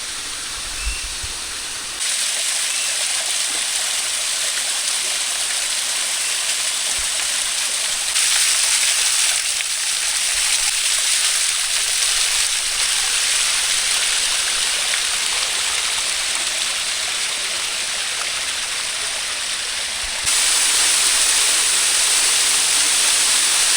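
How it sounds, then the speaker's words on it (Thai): Water falling at a waterfall in Laos, heard as a steady, loud rushing hiss that fills the whole stretch without pause and with no voices. "นั่นเนาะน้ำตกทุกคน"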